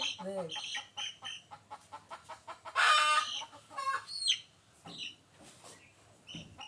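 Chickens cluck close by in a run of short, repeated calls, with one louder squawking burst midway, mixed in with a person talking.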